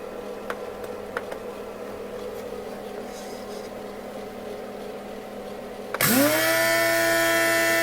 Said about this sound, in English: Here is our coffee bean grinder.